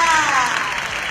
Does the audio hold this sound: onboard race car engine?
no